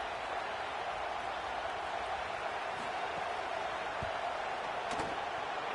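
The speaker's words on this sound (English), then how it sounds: "This crowd trying to do its part to get inside the kicker's head" Steady roar of a stadium crowd in a college football video game featuring Wisconsin, building noise during a field goal attempt, a continuous dense wash of cheering with a few faint thuds, no talk over it.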